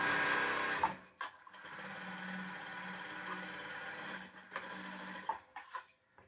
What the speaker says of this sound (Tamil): தையல் வந்து ஸ்ட்ரைட்டாக அடிக்கணும்.